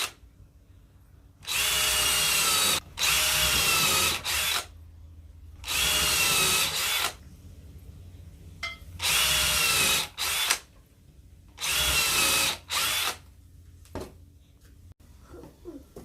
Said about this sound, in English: so that's why I'm drilling on the inside of those. So I'm just pre-drilling.